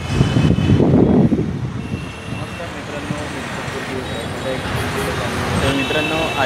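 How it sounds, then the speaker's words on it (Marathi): Road traffic on an overpass highway near a metro line: a continuous wash of passing cars and trucks, steady and moderately loud, with a brief louder low rumble early on and faint beeping in the background. "इकडे वरती गाड्या आहेत बघा"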